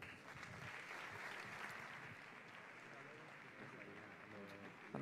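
An audience at a sports gala in Béjar applauds with dense, sustained clapping that holds steady throughout, heard from a distance.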